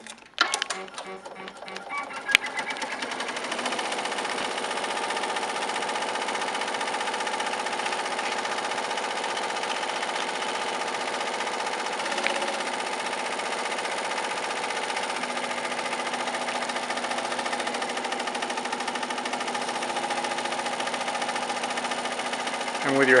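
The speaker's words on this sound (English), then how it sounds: "with your happy embroidery machine, it makes short work of this applique" A HAPPY embroidery machine stitching a machine-cut applique, a steady rapid mechanical whirring and clatter that runs continuously at an even rhythm after a brief start-up.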